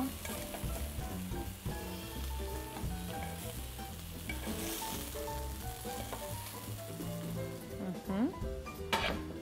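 Chicken with pumpkin and mushrooms sizzles steadily in a pan, with occasional clinks of utensils while a person talks over the frying.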